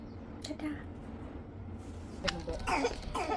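A few short coughs from a child close by, with faint background noise and some rustling between them.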